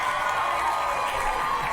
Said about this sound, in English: The women always cheer, and there's always one guy that boos.